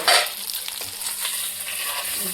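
Roasted chicken varavu spice mix being stirred into chicken in a pan, a steady close sizzle with scraping stir strokes and a louder burst at the start.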